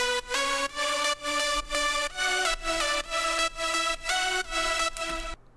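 Synth lead chords ducked by Tau Filter sidechain compression, pumping in a steady rhythmic pattern as each chord swells back after a dip, about two pulses per second over a deep low end.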